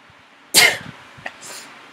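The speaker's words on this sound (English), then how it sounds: "I have to sneeze." A single sharp, loud sneeze bursts out near the mic from someone bothered by allergies, followed by a faint breathy exhale and a quieter catch of breath a moment later.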